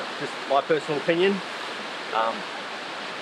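A waterfall in the Otway valley, Australia, gives a steady broad rushing hiss, with someone talking briefly over it.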